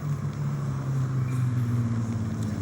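Loud street traffic rumbles steadily, with a deep, continuous engine drone from passing cars filling the scene and no voices heard.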